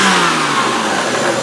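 Car engine with a rod knock and a rough idle caused by restricted airflow, revving steadily and loudly up close throughout, a continuous mid-pitched drone with a slowly falling tone.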